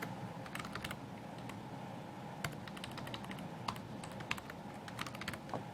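Someone types on a computer keyboard in short bursts of crisp, close key clicks with small pauses between them, over a faint steady room hum.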